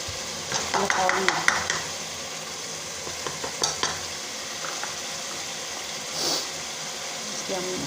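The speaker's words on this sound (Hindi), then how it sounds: "इसको हम मिक्स करके तो थोड़ी सी और इसकी बुनाई करेंगे" Chana gravy thickened with boiled chickpea powder and stirred in a pot, giving a close simmering sizzle with clustered spoon scrapes and clinks early on, then a quieter bubbling stretch and a brief soft hiss near the end.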